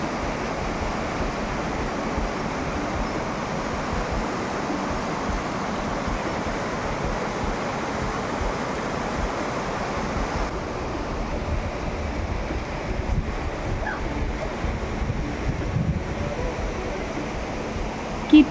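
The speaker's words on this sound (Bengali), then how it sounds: "জলের আওয়াজ, শুধু জলের আওয়াজ, আর কিচ্ছু শোনা যাচ্ছে না।" Water rushes steadily at Lingtham in East Sikkim, a continuous broadband roar that stays even and loud with some wind buffeting the microphone, no voices over it.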